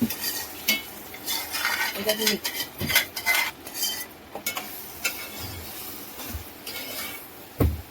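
A spoon scrapes and clinks against a pot while marinated paneer is stirred and mixed for paneer biryani, giving steady, close stirring with occasional metallic taps.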